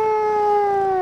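A steady, high electronic meow-like tone with a slight downward glide, loud and alone for about a second, a synthesized cat sound from the Second Life game Fort Meow.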